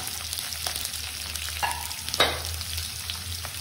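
Ginger, curry leaves, onion and vegetables frying for sambhar, a continuous close sizzle in oil with occasional stirring clinks and scrapes against the pan, no talking.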